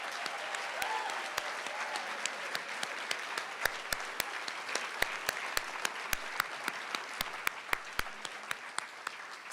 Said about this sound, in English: let's give all of these BSN soon-to-be graduates from our Billings and Bozeman campuses one more round of applause